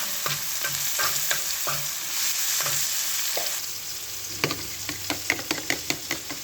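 Onions fry in a pan with salt, chili and turmeric, a steady close sizzle at first, then a run of sharp scraping and tapping stirring strokes over quieter frying.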